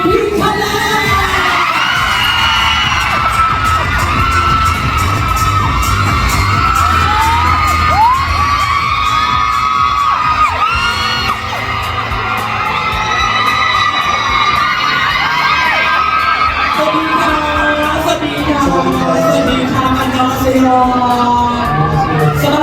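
A large crowd screams and cheers continuously at high volume, with shrill whoops and shouts rising over the din throughout.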